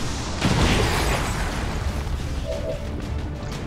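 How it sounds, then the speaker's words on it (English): A rocket fired and exploding in the video game XCOM Long War 2, a loud broadband blast swelling early and rumbling on through the rest, with no talk over it. "Firing rocket."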